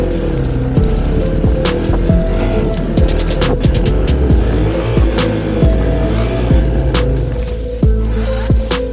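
A Yamaha TW200 motorcycle rides off-road, its engine revving up and down in repeated surges with rising and falling whine, loud and close, with sharp knocks and rattles from the rough trail.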